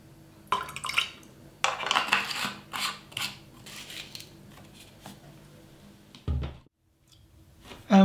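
A few drops of nutrient concentrate fall into water in a watering can for an indoor herb garden pot system, heard as a run of small, close, wet drips and clicks with light handling noise and no talking.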